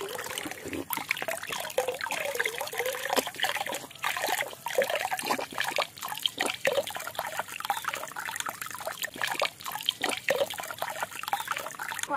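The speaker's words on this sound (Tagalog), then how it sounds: "inom na ta sa tubig para busog" Drinking water trickles and splashes as it is poured, making an uneven, fairly close stream with small drips and gurgles that runs for several seconds.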